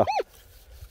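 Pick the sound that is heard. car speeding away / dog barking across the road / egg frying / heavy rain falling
dog barking across the road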